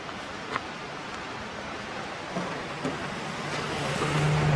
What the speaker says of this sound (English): We'll wait for this car, obviously.